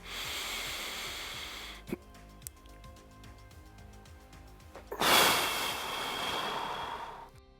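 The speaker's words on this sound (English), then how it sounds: "So another one is just breathe in deep and then hold the breath." A person draws a deep breath in, holds it in near silence with faint clicks, then lets it out in a long, loud airy exhale close to the microphone.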